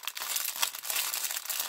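Close, quiet crinkling and rustling of thin plastic, a steady run of crackles as a bag is handled and pulled open.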